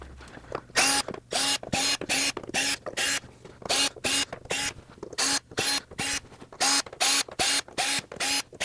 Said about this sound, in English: we're going to have to take out all of these Phillips head screws